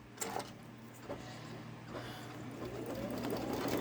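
A Babylock Solaris Vision sewing machine starts an embroidery after a locking stitch, with scattered mechanical clicks giving way to a rising, steady whirring stitch sound that grows louder toward the end.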